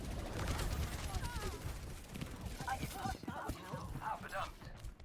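Rocket barrage in a video game: a dense, loud run of rapid explosive bursts and crackling impacts, with a voice talking over the top.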